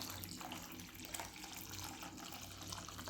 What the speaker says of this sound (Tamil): நமக்கு எவ்வளோ ரசம் தேவையோ அந்த அளவு தண்ணி இதில் ஆட் பண்ணிக்கலாம்.